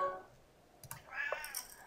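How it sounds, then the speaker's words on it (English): A Siamese cat meows indoors, giving one short, clear meow near the end after a quiet stretch with a few faint clicks, close and moderately loud. "Siamese cats tend to be very talkative."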